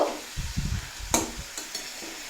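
Cabbage with spices and slit green chilies is stirred in a pan for a cabbage ghonto, with soft scraping and shuffling stirs over a faint sizzle, close and quiet, with no voices.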